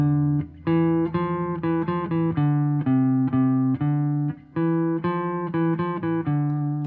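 Simple guitar riff played by ear, a short repeating phrase of clear plucked notes in a steady rhythm, close and moderately loud with no talking.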